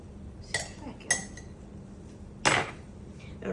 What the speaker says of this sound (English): I'm gonna cut us a piece of it.